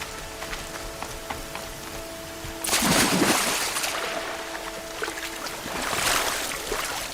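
Steady rain hisses over the landscape in the video game Horizon Zero Dawn, with a louder rush of downpour swelling midway and again toward the end.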